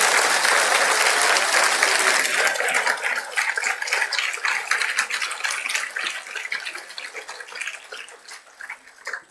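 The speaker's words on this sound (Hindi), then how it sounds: "जोर से ताली बजाइए।" A large audience at a formal public event applauds loudly, a dense burst of clapping that holds strong for a few seconds and then gradually thins and fades out.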